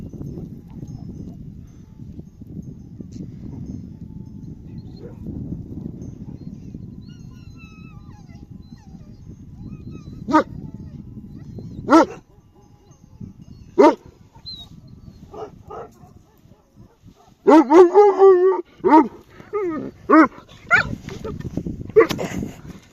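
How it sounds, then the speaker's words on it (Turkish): Dogs, including a Kangal puppy, barking in sharp, scattered bursts that grow more frequent toward the end, after a stretch of low rumbling noise. "köpekler tam gaz geliyor"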